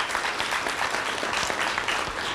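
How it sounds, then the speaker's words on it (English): A packed room applauds at an anniversary, internship completion and scholarship ceremony, a thick continuous roar of clapping at full strength from start to finish. "Let's give it a round of applause."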